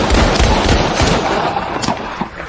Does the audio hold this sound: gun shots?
yes